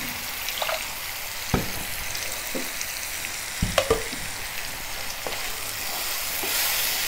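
Soft frying sizzle of dhariwala sabzi sautéing in a pan, steady and close, with a few sharp clinks and stirring scrapes scattered through.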